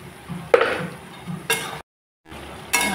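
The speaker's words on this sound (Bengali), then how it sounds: "মশলাটাকে ভালো করে কষিয়ে নেব।" Spice paste and turmeric fry and get stirred in a pan, with soft scraping strokes, a couple of sharp utensil knocks and sizzling bursts, close and moderately loud with a brief silent gap.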